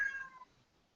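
A house cat lets out a single short meow, close but quiet, fading quickly into silence.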